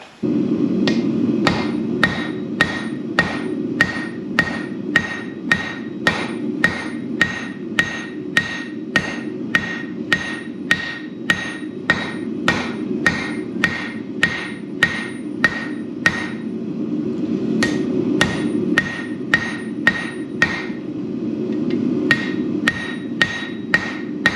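A hammer striking hot steel during blacksmith forging of scroll tongs, steady evenly spaced ringing blows repeated dozens of times over a continuous low hum, loud and close.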